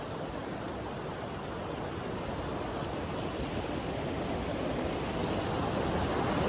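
A waterfall at Chandanwari near Pahalgam in Kashmir roars as a dense, steady rushing wash, loud and close and unbroken, with no voices.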